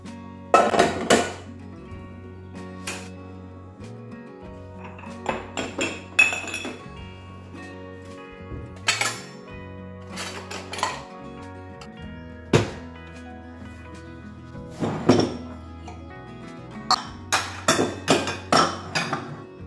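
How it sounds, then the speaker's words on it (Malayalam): Dried, washed dishes and kitchen utensils being put away in a home kitchen: repeated clinks and clatters of pots, plates and cutlery in irregular bursts, close by and moderately loud, with no talking. "രാവിലെ കഴുകി വെച്ച പാത്രങ്ങളൊക്കെ ഒന്ന് ഡ്രൈ ആയിട്ടുണ്ട്"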